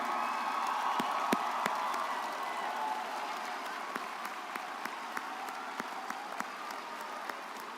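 A high school commencement audience applauds military families, a steady wash of many hands clapping with scattered sharper claps and faint cheers, fading slightly over time.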